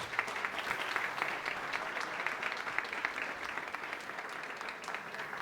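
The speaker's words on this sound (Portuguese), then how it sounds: "Vamos aplaudir o nosso Deus?" A church congregation at a Sunday service applauds in praise, with continuous, even clapping from many hands throughout.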